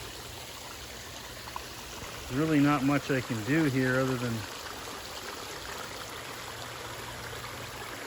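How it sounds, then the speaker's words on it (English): A waterfall heard from the top of a cliff, the edge of the gorge, as a steady broadband rush of falling water that runs the whole time, with a person talking over it partway through. "listen to the waterfall"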